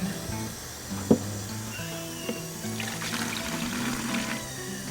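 Cold water pours steadily into a 5-gallon bucket for a few seconds, with a soft splash and trickle over low background hum.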